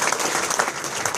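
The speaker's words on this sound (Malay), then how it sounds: "Berikan tepukan gemuruh kepada mereka" A crowd at a business gathering gives a brief burst of thunderous applause, dense and continuous clapping at a strong, steady level.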